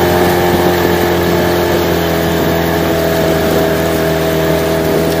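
A new Parsun T15BMS 15 hp outboard motor being run in on a boat, a steady loud continuous engine drone at moderate revs with an even tone throughout, no talk.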